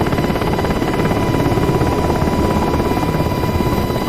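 A helicopter flying low through a city with cranes in DCS World, its rotor and engine giving a loud, steady, continuous drone close by, with no talking.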